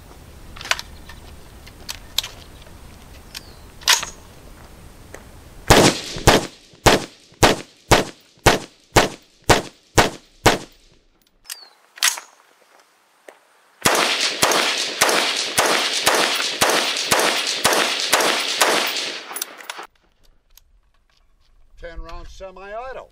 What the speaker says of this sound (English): this will be the Huber square brake in a 10 round semi-auto configuration.